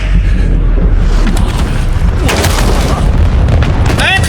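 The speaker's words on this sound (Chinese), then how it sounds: "我看一下迫击炮的效果。" Mortar strikes land in a Call of Duty video game, a loud continuous rumble of booming explosions with cracking bursts layered over dense battlefield noise, a short whistling tone near the end.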